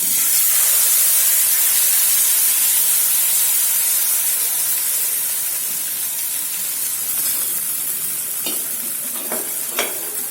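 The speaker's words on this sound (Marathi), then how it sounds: "आता याच्यात आपली टोमॅटो आणि चिलीची आपण ही पेस्ट टाकून घेऊया." Tomato and chili paste sizzles hard in garlic butter for red sauce pasta: a close, loud, continuous hiss with a few spatula scrapes and clicks near the end.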